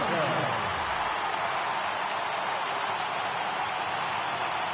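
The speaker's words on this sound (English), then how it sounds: "Crowd gets up for the 3-2." Baseball stadium crowd in a PS4 video game, a dense, steady roar of cheering that holds loud and even the whole time, with a commentator talking over it.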